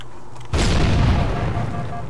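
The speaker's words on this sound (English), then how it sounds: "those grenades go off very quickly" Grenades detonate in a Halo game, a sudden loud blast after a quiet moment that rolls on into a dense, rumbling roar of several explosions overlapping.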